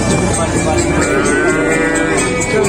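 Limousin cattle moo loudly and repeatedly at a crowded livestock market in Gondanglegi, Malang, with steady crowd chatter and market noise behind them.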